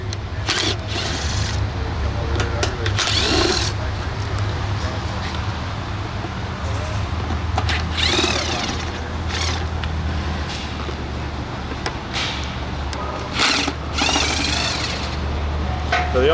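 A power tool runs in bursts to back out four bolts from a cable mast, producing a rattling, hammering whir over a steady low hum, with a person talking in between.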